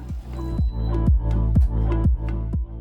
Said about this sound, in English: Wait until the coffee machine has finished extracting water from the group and steam nozzle.